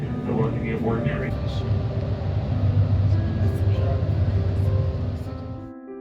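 Steady low rumble and rolling hum inside a moving Via Rail Canadian passenger train, continuous at moderate loudness, with faint voices and brief higher tones over the top before the noise drops away at the end.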